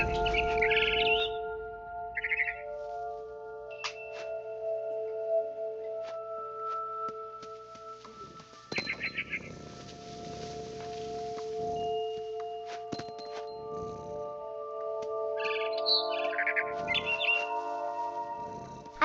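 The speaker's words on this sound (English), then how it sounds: "Then I heard chirping outside my window. It was a barn swallow going back to her nest." A barn swallow chirps in the video game What Remains of Edith Finch, giving scattered, bright, high chirps and short trills over a soft, steady ambient background.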